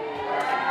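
Children and families at a Children's Day party in Tijuana let out a brief, loud group shout, a single sustained crowd yell.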